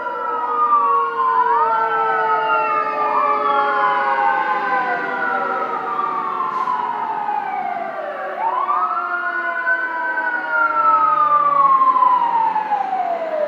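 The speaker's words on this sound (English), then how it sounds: "When it's a serious emergency, you're going to hear the siren" Fire engine siren wailing loudly and continuously, its rising and falling sweeps shifting in pitch as the truck passes close by, with no voices over it.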